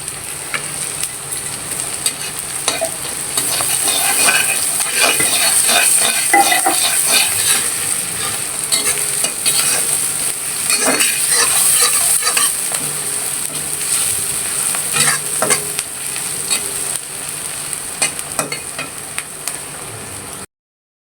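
Grated ash gourd bhaji sizzles in a pan with five-spice while being stirred, a continuous bright frying hiss punctuated by scraping and stirring strokes, close and steady throughout with no voices.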